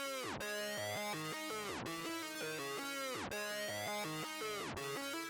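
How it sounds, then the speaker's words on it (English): A synth counter melody in an FL Studio beat, sweeping tonal phrases that repeat every couple of seconds with pitch dips between them, dense and continuous, quiet and without voices. "it's got an extra synth counter melody that we didn't have in the entire beat so far"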